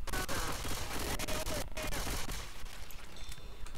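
Dense gunfire from several weapons in the video game Left 4 Dead 2, continuous and fairly quiet, a rapid crackling barrage that runs throughout the clip.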